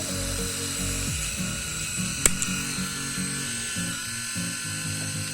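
An ENCHEN Blackstone 3 electric shaver runs with a steady, close motor buzz, holding an even hum throughout with one brief click partway through.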